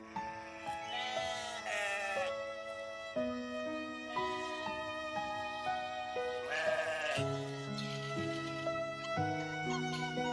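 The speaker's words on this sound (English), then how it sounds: "Sheep." Sheep bleat repeatedly in a series of clear, close, wavering calls that overlap and vary in pitch, with no talk over them.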